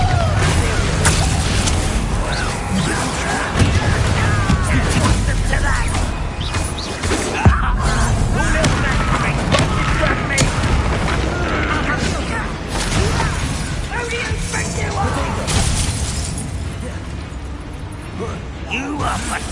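Bombarda spell blasts in the Hogwarts Legacy video game: dense booms and crashing bursts layered over continuous game music and effects, loud and busy throughout, with a sharp impact near the middle.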